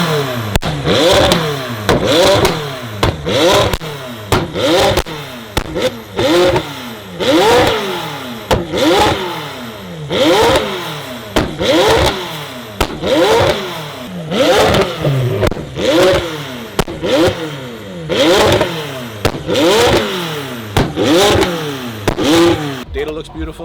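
A McLaren 600LT with stage 2 downpipes accelerating hard through repeated rising revs, each gear pull ending in loud pops and crackles, close and aggressive throughout.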